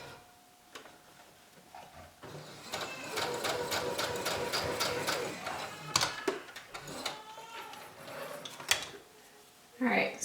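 A sewing machine top stitching a surfsuit zipper runs in a steady fast rhythmic chatter for several seconds, close and fairly loud, then slows and stops with a few mechanical clunks.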